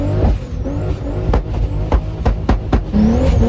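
A 1300 HP Nissan Patrol engine climbing a ski slope, a loud, close, strained roar with shifting revs and sharp bursts as the vehicle pushes uphill.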